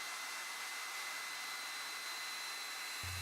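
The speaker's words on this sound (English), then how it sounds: "We keep a hairdryer handy to dry off the grip tape quickly" A hair dryer blows continuously at close range, drying skateboard grip tape, a loud steady whooshing hum with a faint high whine throughout.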